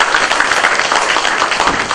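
A church congregation claps and applauds, a dense, steady wash of hand claps filling the room for a couple of seconds, close and loud, with faint voices mixed in.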